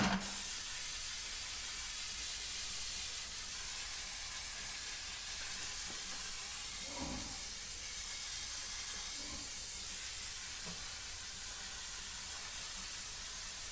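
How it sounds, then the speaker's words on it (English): Brake cleaner sprayed onto the wheel hub of a dump truck during an oil seal job makes a long, steady aerosol hiss that runs almost unbroken and fairly close, with faint clinks and handling noises beneath it and no speech. "now let's take brake clean, start douching her down."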